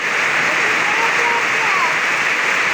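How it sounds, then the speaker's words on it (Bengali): Heavy rain pours in a steady, dense, loud hiss that fills the whole moment without a break, close by and unvarying. "অনেক বৃষ্টি ভাই, অনেক অনেক অনেক"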